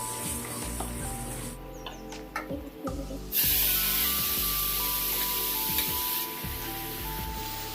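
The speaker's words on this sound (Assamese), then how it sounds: "এতিয়া মই মাছ ভজা তেলখিনিতে নহৰু 2ফুটামান দিম আৰু অলপ মেথি দিম" Garlic cloves and fenugreek seeds hit hot oil left from frying fish, breaking into a loud, steady broadband sizzle that jumps up partway through and then holds. Low clatter from stirring runs underneath, and nobody speaks.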